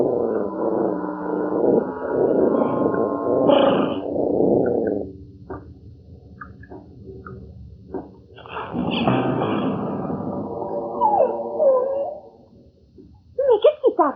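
A dog growls low and long, then whimpers and whines in higher, wavering cries, close and fairly loud, with short pauses between bursts and a few sharp yips at the end.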